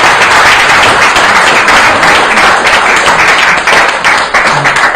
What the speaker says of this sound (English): Will you please give another big round of applause?